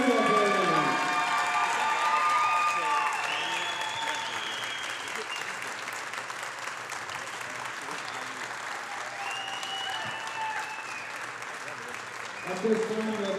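Crowd at a high school volleyball game applauding senior Lady Stars players, with sustained clapping and cheering that stays full and steady throughout, a voice over the loudspeaker heard early on.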